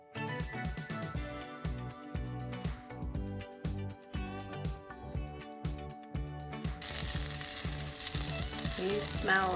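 Fresh garden onions sizzle and fry steadily in a hot pan for grilled onions, with stirring clatter and metallic scraping through the sizzle, loud and close, growing denser near the end.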